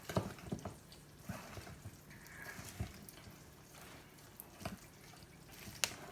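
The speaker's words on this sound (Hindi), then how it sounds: "अब थोड़ा थोड़ा पानी लगाकर हम थोड़ा सा पानी डालेंगे और मिक्स कर लेते हैं" Water is trickled into gram-flour pakora batter and stirred in, giving faint, scattered drips and soft wet squishes close by against a quiet background.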